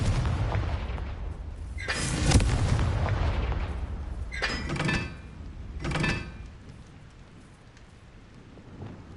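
Explosive combat spells go off in the Hogwarts Legacy video game. Three heavy booming blasts land a few seconds apart, each with a rumbling tail, over a constant low roar, with no one talking.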